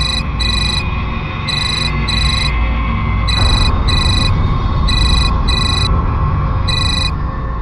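A mobile phone ringtone plays loud and close, repeating paired electronic beeping bursts at a steady rhythm over a dense, noisy dramatic background, with no talking.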